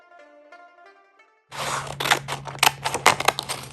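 Scissors snip through fabric and interfacing templates in a quick run of close, crisp cuts, each with a sharp blade crunch. Soft instrumental music comes first and then gives way to the cutting, with no talk.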